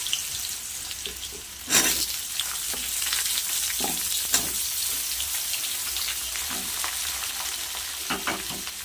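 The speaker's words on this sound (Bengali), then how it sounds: "উচ্ছে কিন্তু প্রায় ভাজা হয়েছে এবার বাদ বাকি সবজিগুলো ভেজে নেব" Bitter gourd, sweet potato and papaya frying in a pan for shukto make a loud, continuous sizzle and hiss, broken by a few sharp stirring scrapes and clacks, close up with no one talking.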